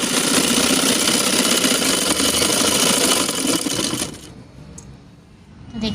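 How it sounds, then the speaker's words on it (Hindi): A sewing machine stitching the border of a dupatta pallu with gotta work, a loud close steady mechanical whirring for about four seconds before it stops and a quieter room sound remains. "तो ये सिलाई फिनिश कर लेते हैं"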